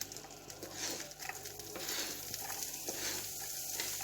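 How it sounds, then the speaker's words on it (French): Butter melting and sizzling in a pan with finely chopped shallots, a steady close crackle and light patter running throughout with no talk. "on fait fondre le beurre"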